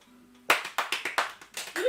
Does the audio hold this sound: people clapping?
yes